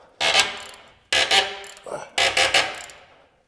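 A ratchet fitted with a large universal socket tightening a big bolt, three loud, close bursts of rapid clicking separated by short pauses.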